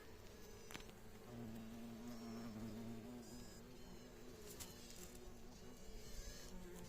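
A steady, close honeybee buzz at a hive during a hive change, with droning tones that waver and overlap, many bees humming together without pause, the thin whines being alarm signals.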